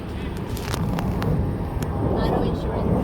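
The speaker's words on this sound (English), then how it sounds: "Oh no, it's taking off." An Embraer jet airliner taking off from a runway, a broad continuous roar from a distance with wind-buffeted rumble and sharp clicks, while people talk nearby.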